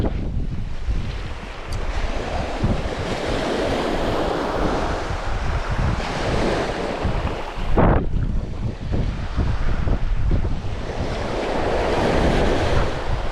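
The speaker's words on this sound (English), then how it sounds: "Plenty of wind there." Strong wind roars steadily across an open beach and buffets the microphone, with surf breaking in the background and one sharp gust near the middle.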